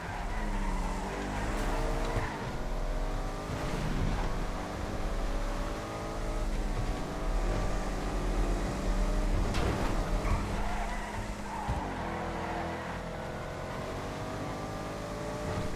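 Continuous, loud engine roar from a Grizzly SUV racing in GTA FiveM, its pitch rising and falling through gear changes and acceleration, with brief tire skids mixed in and other racing cars close by.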